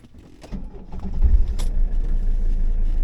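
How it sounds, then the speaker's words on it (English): A car engine catches and settles into a steady low idle inside the cabin after faint rustling and key jingles, the rumble growing louder and holding for the rest of the clip. "let's go ahead and get my car all on as well"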